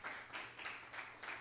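Applause for a speaker being welcomed up at a Coptic church event, a steady mid-level wash of many hands clapping that swells and eases in gentle waves, with no voices over it.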